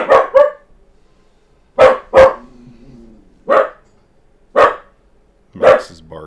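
A dog barks close by in short bursts, single and doubled barks spaced out with quiet gaps between them.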